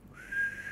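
A person gives a single short whistle. The clear, steady tone is close and fairly quiet and rises slightly as it begins.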